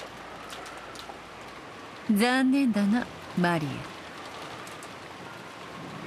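Steady rain and wind ambience from the Umineko visual novel, a constant wash of falling rain that runs throughout while a voice speaks in the middle.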